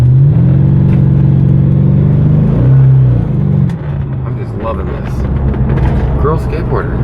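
A C4 Corvette with targa top and C6 wheels accelerates hard, with loud, close engine tones climbing through revs before a shift and a quieter, rougher running note. Someone talks over the later part.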